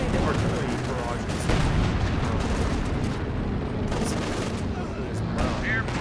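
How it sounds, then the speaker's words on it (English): Coordinated artillery barrage in Company of Heroes 2, a continuous dense rumble of shelling and gunfire filling the clip, with a voice talking over parts of it. "Coordinated fire. This coordinated artillery barrage"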